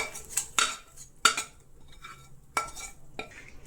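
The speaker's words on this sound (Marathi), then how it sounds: "आपण हे ताटामध्ये काढू आणि थंड होऊन देऊ" Cooked chicken masala for a traditional chicken rassa being scraped out of the pan into a steel plate: sharp metallic clinks and scrapes of a spoon against steel in several separate bursts, close and fairly loud, with no talking.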